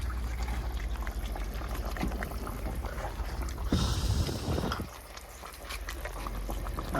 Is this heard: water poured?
yes